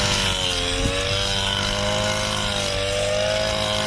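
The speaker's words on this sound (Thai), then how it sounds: "เร่งปกติก่อนยังไม่ได้กดเทอร์โบนะครับ" A Martens 230 brush cutter engine revs steadily at normal throttle without turbo, a loud, close, continuous buzzing drone that holds even throughout.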